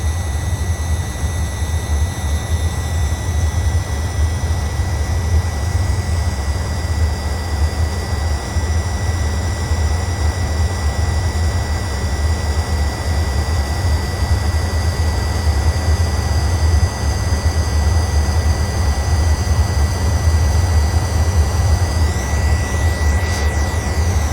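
Avro Vulcan jet engines in a flight simulator game roar continuously during a landing approach, a loud, steady whine and rumble with no talking.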